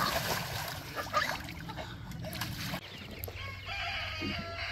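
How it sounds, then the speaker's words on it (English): Roosters among young homestead poultry crow in the background, a busy outdoor scene with splashing water and some voices mixed in, the crowing moderately loud but partly masked. "We got some roosters for sure."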